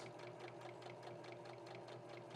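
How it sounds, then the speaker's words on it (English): A sewing machine stitches a fabric liner for a reusable hygiene pad, a steady fast mechanical whir and needle chatter, close and continuous, with no talk. "put my pressure foot down so that I can start to sew"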